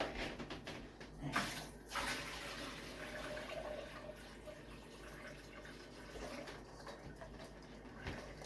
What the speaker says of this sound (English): dump about half of this water down the sink